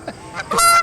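Geese in Mentor give a few loud, close nasal honks in quick succession, the last one longer and drawn out, with no other sounds.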